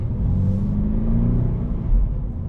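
A 2024 Subaru BRZ with a manual transmission, its engine heard from inside the cabin as a steady low rumble that swells slightly as the revs climb to around 3,500 rpm, with no talking.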